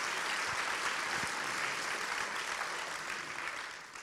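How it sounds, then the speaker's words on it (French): An audience claps to encourage a volunteer on stage at a lecture-show, a steady wash of many hands that holds evenly and fades slightly toward the end, with no talk over it. "On peut l'applaudir très fort, on l'encourage."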